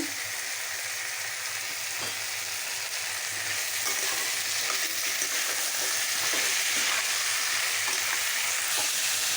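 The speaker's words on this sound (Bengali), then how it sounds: "এরকম কষিয়ে নিলাম মশলার সাথে।" Jackfruit seeds and vegetables are stir-fried with spices in a hot pan. The sizzle is steady and close, with the scrape and clatter of stirring now and then.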